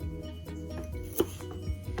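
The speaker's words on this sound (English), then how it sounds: "Lots of chopping of vegetables in this recipe." A knife chops root vegetables such as carrots on a board for a veggie chilli, a few close, irregular knocks with one sharper hit in the middle and no talking.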